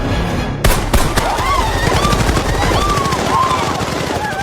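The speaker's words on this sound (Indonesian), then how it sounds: "Tembakan itu pun terdengar dengan jelas oleh Gasper" Gunfire bursts out near a waiting car during a roadside rescue, a sharp rapid volley of shots after a brief quiet start, followed by repeated cracks over a continuous rumbling engine and background noise.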